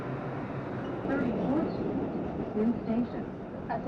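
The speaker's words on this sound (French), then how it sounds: "il y a le métro qui passe" A New York subway train runs past with a steady rumbling roar and a slight swell partway through, under faint murmuring voices.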